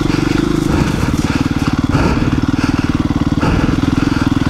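Dual-sport dirt bike engine revving hard while riding slowly over loose gravel, a loud, continuous, close-up drone with a fast pulsing beat and rough clatter mixed in.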